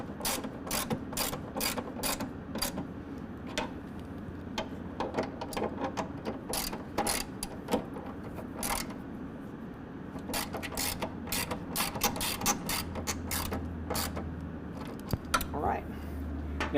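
A ratchet tightening nerf bar bolts on a 2021 Ford Bronco, rapid repeated clicking strokes in quick runs, close and crisp, with someone talking at times.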